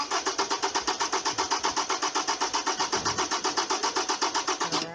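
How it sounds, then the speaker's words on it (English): Car engine cranking on the starter during a battery and starting system test, a steady rapid rhythmic whirring chug held for several seconds, close and loud, ending as the engine catches. "Go ahead and crank it."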